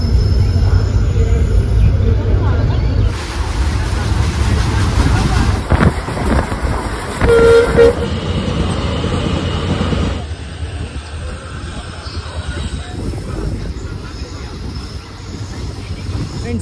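Passenger train on the Delhi to Ringas line in Rajasthan, rumbling steadily over the rails with heavy wind and low mechanical roar, and a brief tonal horn-like band midway; someone speaks faintly beneath it.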